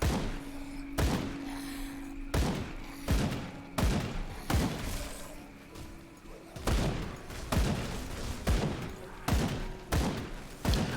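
Gunshots in the video game Grim Dawn fire as a series of loud, punchy blasts at a fairly regular pace over a low background hum, with no talking.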